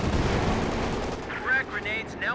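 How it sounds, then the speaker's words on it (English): Gunfire and explosive blasts from a Company of Heroes 2 battle ring out in a sharp, loud burst, followed by fainter rumbling impacts while a commentator talks over the action. "Our squad will get the tank rifle grenade firing."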